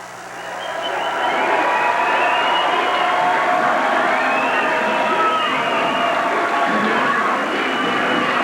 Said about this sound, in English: And the Santa Cruz crowd is on its feet.